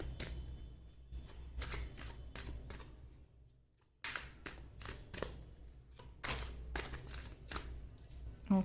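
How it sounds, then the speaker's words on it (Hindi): Tarot cards shuffled by hand in a quiet room, a steady run of crisp riffling bursts with a short lull in the middle before the shuffling picks up again, close and alone with no talk. "मैं कार्ड्स आपके सामने ही शफल करूंगी"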